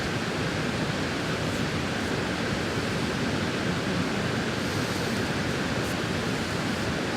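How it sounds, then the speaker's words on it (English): A big creek rushes steadily through trees outdoors, a loud, continuous broadband wash of flowing water with no pauses and no voices. "Listen to the sound. We got this big creek running here."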